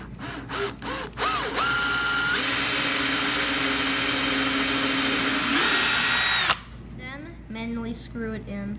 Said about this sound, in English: drill into the neck part.